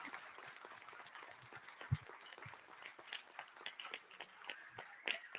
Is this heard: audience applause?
yes